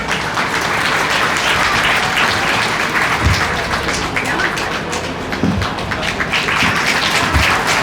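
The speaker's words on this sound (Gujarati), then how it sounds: "એના માટે થોડીક અલગથી તાળીઓ હોય." Audience clapping for Class 12 science students at a Patel community gathering and prize event, dense sustained applause from a large crowd, loud and continuous with a few nearer individual claps standing out.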